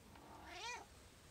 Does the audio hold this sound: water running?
no